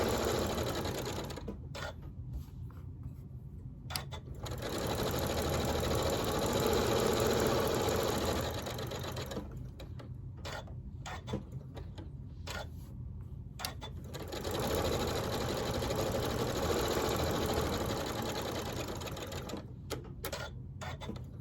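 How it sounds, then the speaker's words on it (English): Close and clear, a sewing machine runs in bursts of rapid, buzzing stitching while sewing a quarter-inch seam around a quilt block. Several long runs are separated by short pauses and clicks. "I am going to take them over to my sewing machine and I'm going to sew 1/4 of an inch all the way around the whole entire thing."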